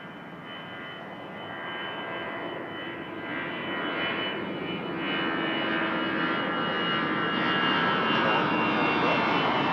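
A Turkish Airlines jet at Toronto Pearson Airport after pushback gives a steady broadband engine roar that swells slightly over time, sustained and moderately near with no talk.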